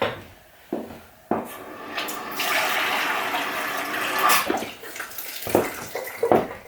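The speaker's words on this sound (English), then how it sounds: "I'm just going to fill that with water" Tap water running into a small cooking pan, starting with a few knocks and clatters, then a steady rushing fill that breaks off into scattered clinks and splashes.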